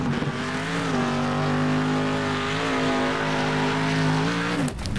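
A rally car in Next Car Game roars through a sandpit circuit on tarmac and gravel, its engine droning steadily with slight pitch shifts, ending in an abrupt cut-off near the end.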